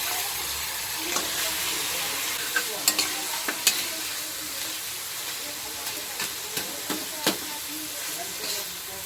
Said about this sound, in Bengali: মাছের মাথাগুলো দিয়ে কষিয়ে নেবো একটু।